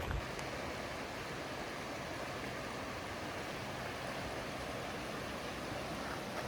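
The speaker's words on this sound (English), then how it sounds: "There is a river next to me, and we've been having a lot of rain lately, so the river is super high." A river swollen high by heavy recent rain rushes steadily nearby, a loud, unbroken roar of churning water with no other sounds.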